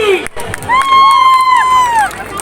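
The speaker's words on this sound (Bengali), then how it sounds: "একটু জোরে হাততালি ফর ওম সাহানি।" An audience at a film promotion event in Raiganj cheering loudly, a brief burst of crowd noise with a long shrill whistle rising above it.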